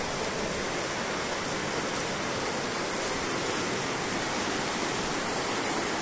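River water rushes at the confluence of the Bheri and Karnali rivers, a loud, unbroken roar of flowing current that stays steady throughout with no talking.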